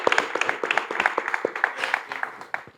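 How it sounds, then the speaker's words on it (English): A short burst of audience applause, with irregular, closely spaced claps from several people heard fairly near for under three seconds. "Can we give her a round of applause"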